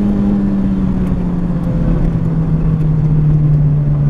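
A Fiat Seicento with a 1.2 turbo engine holds steady revs near 5000 rpm, a loud continuous drone with a gently falling pitch and no voices.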